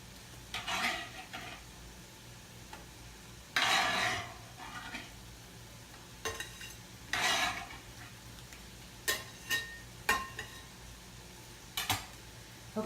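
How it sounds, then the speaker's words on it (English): Diced red peppers tipped into a bowl and stirred with a utensil, giving scattered soft scraping and clinking bursts at irregular intervals, fairly close, with no talking. "I'm gonna add them to the bowl."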